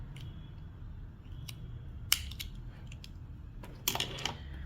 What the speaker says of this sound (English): and cut off your excess yarn.